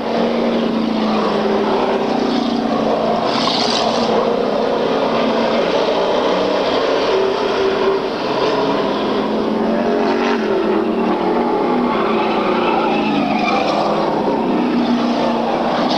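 Race cars battle on a track in a 1995 late-laps contest, making a continuous loud roar of engines that swells and fades as cars pass, with a dense overlapping drone throughout.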